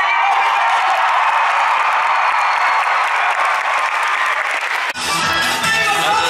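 A crowd claps and cheers at the start of an evening show, with loud continuous applause that cuts off abruptly near the end as music begins.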